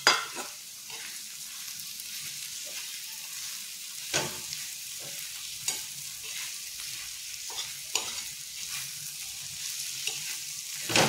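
Pieces of dried salted bangda mackerel frying in a pan, a soft steady sizzle with occasional sharper stirring knocks and scrapes, no voices.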